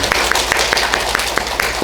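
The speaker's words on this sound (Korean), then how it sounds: "우리 감사와 영광의 박수를 하나님께 올려드릴까요?" A congregation at a Sunday service in a Korean Presbyterian church in New York claps together in a steady, evenly spaced beat, about nine sharp, close claps over a soft background murmur.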